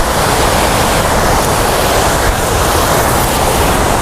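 Rushing water at Thooval waterfall in Idukki, Kerala, a steady dense roar that fills the whole clip at high level, with no voices and no break in the continuous wash.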